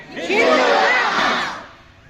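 At a Hindu gathering in Tirupati, a large crowd shouts a single answer in unison, a loud, swelling collective cry lasting about a second and a half before fading out.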